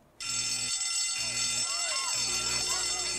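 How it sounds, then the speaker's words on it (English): A loud, continuous electronic fire alarm blares steadily, with a pulsing low tone repeating underneath. "Nobody cares. That's the fire alarm."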